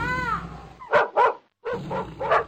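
A wolf growls in a children's fairy tale while facing down an old dog, heard as short rough snarling bursts close up, broken by a brief pause and then a louder run of growls.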